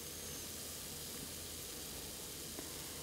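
Steady sizzling hiss from food cooking inside an Avalon Bay AF25BSS stainless steel air fryer, constant and fairly close, with no voices.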